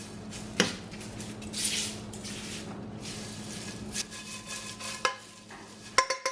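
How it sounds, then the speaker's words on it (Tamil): Grated coconut being stirred and dry-roasted in a pan for sambar powder, with soft scraping and shuffling strokes and a few sharper clinks of the spoon against the pan, close and fairly quiet. "3 நிமிஷமாக தேங்காய் பூவை வந்து தனியை வச்சு வறுத்தனான்"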